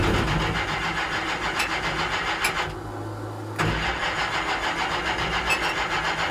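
A 1969 Plymouth Barracuda engine cranks and tries to start, running rough and loud before a short pause, then churning on again without settling into a smooth idle.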